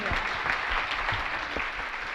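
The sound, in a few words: audience clapping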